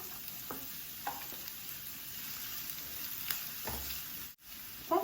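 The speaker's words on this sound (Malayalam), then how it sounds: "അതിലേക്ക് ഒരു സബോള അതുപോലെ ചെറുതാക്കി കഴിഞ്ഞ് അത് ഇട്ട് കൊടുക്കുക" Chopped onion frying in oil with curry leaves, a soft steady sizzle with occasional stirring clinks and scrapes of a spoon in the pan, close and continuous without talk.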